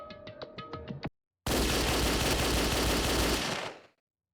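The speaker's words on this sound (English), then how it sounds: "Surveillance camera has a machine gun attached." Rapid machine gun fire from a gun mounted on a ceiling surveillance camera in the Danganronpa Another video game, a loud dense burst lasting about two seconds, following a short series of chiming electronic tones and a brief silence.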